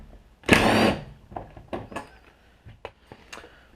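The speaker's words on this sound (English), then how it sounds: "the first step is to remove the torque screws" Torx screws coming out of a 2015 Ram 1500 EcoDiesel fuel door: a loud, brief driver whir near the start, then scattered light clicks and taps of the bit and screws, close up.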